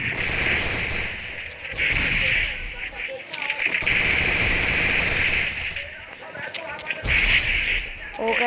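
Rapid bursts of gunfire in a shooting video game, loud and close, several sustained volleys separated by short gaps, with a voice speaking over parts of it.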